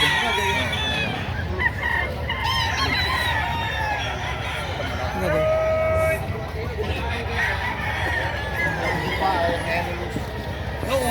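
Roosters and chickens at a livestock market crow and cluck repeatedly amid crowd babble and people talking, with several birds calling near and far throughout.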